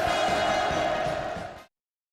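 A large crowd roars hurrahs for North Korean leader Kim Jong Un, a dense, loud wall of massed voices that holds steady and then cuts off abruptly.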